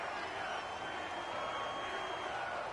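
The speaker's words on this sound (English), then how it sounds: "the crowd getting into it as we come up on a big third down" A stadium crowd cheers in a PS4 American football video game ahead of a big third down, forming a steady, dense roar that holds at an even level throughout.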